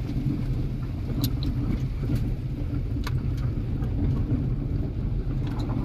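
A vehicle rolls along a rough unpaved dirt road, its engine a steady low rumble with occasional faint knocks and rattles from the bumpy surface, and no voices over it.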